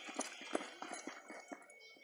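A horse's hooves step backward on the ground in a series of irregular, moderately close thuds over steady outdoor background noise.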